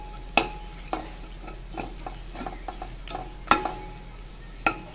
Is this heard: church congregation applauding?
no